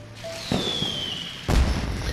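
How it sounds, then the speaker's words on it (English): Two dull booms about a second apart, each a broadband burst over a faint whistling tone, sounding somewhat distant like fireworks going off in the video game Genshin Impact. "Did you hear that explosion? Maybe it was fireworks."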